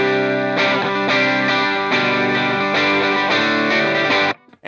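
Electric guitar played through a Helix amp modeler with a dynamic-mic cab model, bright and sustained chords ringing loudly before cutting off abruptly near the end.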